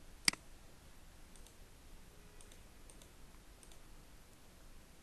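Computer mouse clicks on nodes in structural analysis software: one crisp, close click at the start, then several faint, scattered clicks over quiet room tone.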